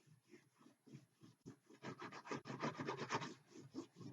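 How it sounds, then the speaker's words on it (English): A cut rhinestone template being rubbed down by hand, making a dry, rhythmic scratching rasp that starts soft and grows louder and denser, heard close with no speech. "rub this down, see if I can get some of them to stay down without coming up."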